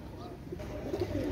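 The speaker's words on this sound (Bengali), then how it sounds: "অনেক সুন্দর সুন্দর কবুতর দেখাচ্ছি" Pigeons of show breeds cooing in a loft, soft low throaty coos repeating irregularly near by, faint and brief with someone talking in the background.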